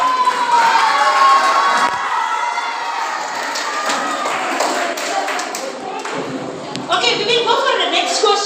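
Children in a school quiz session cheer and shout together in a loud, sustained burst that fades slightly mid-clip and swells again near the end, with scattered claps and thumps mixed in.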